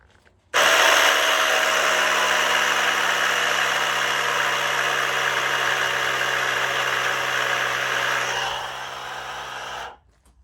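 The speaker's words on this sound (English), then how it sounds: "so let me raise the bike up for you guys." Lift raising a Harley-Davidson V-Rod motorcycle during a custom build: a loud, steady motor whine with a hum underneath starts abruptly, runs for about nine seconds, drops slightly near the end, then cuts off.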